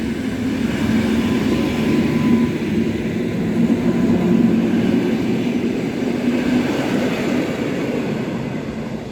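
A train rolling past on a railway line at Chojny, a loud continuous rumble and wheel roar with faint tonal squeal, sustained and fairly close throughout.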